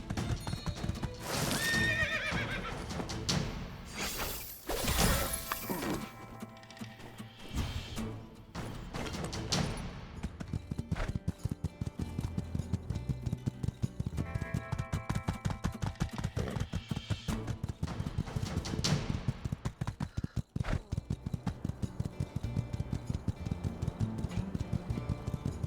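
A horse gallops in the video game My Time at Sandrock, with rapid, steady hoofbeats and whinnies over game effects and music.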